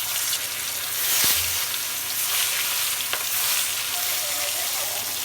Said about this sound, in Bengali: আমি মাছ ভাজার জন্য কড়াইতে তেল দিয়ে দেবো